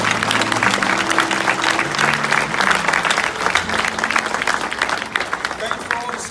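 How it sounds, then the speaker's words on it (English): Sustained applause from an audience at an education award acceptance ceremony, dense steady clapping filling the room without break, with some crowd voices mixed in. "Now give yourselves a round of applause."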